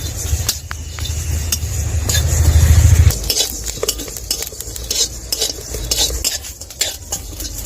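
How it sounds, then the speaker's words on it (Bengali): Cumin and fennel seeds dry-roasting in a pan for a mango pickle, a spoon scraping and stirring with repeated metallic clinks against the pan over a soft background hiss, loud and close. "এক চামচ জিরে দিয়ে দেব আর এক চামচ মৌরি এবার একটু ভালো করে ভেজে নেব"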